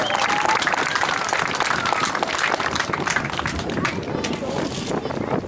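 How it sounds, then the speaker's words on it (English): A stadium crowd at a high school pep rally applauds in a dense, continuous wash of clapping that holds steady throughout, with faint voices mixed in. "Let's give them a round of applause showing our appreciation for that."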